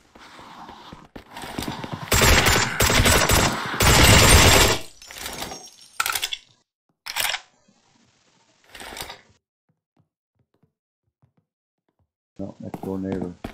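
Gunfire from shooting zombies in the video game Deathly Stillness comes in loud bursts and single sharp shots, separated by silent gaps, with a voice talking over part of it.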